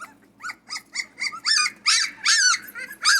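Central Asian shepherd puppies at feeding time, whimpering and yelping in a rapid series of high cries that grow louder and more insistent, mixed with low growls, close by and without talk.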